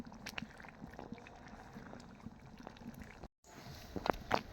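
A pot of khichuri bubbles and simmers on the stove with continuous soft bubbling and popping, briefly cut off, then a few louder clinks and splutters near the end.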